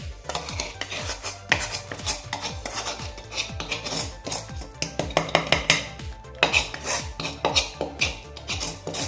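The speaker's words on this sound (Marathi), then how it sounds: "आता हे व्यवस्थित मिक्स करून घेऊया" A metal spoon stirs a dry mixture of flour, fenugreek powder and roasted dry date powder in a pan over low flame, producing close, busy scraping and repeated clinking against the pan.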